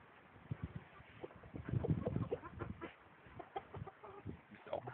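Breeding chickens and a rooster on a farm in Brandenburg, scattered low clucks and short calls close by, fairly faint, with occasional voices among them.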